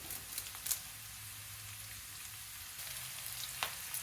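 Cut green chillies and curry leaves sizzle in hot oil in a pan, a soft, fairly faint crackling fry with a few light stirring clicks and no talking.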